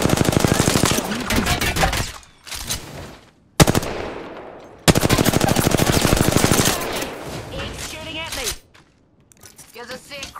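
Rapid automatic gunfire in a video game, loud and close, with long rattling bursts broken by short pauses and single shots, while a player talks over parts of it.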